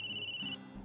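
A phone ringtone for an incoming call plays as a steady high electronic tone. It cuts off abruptly partway through, leaving a low hum.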